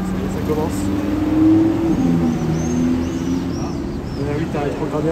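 A Ferrari 296 GTB revs and downshifts hard on a street at Top Marques Monaco, with engine pitch rising and falling amid loud traffic noise and people talking nearby.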